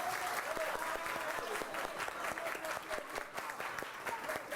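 A class of students claps for the winning team in a classroom game, a steady burst of many hands at moderate volume from start to end, with faint voices mixed in.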